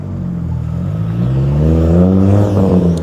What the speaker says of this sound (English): Okay, Mr. Loud Car going by.